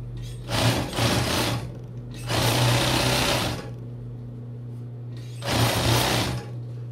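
A sewing machine stitches a padded bra seam in three close, buzzing bursts separated by short pauses.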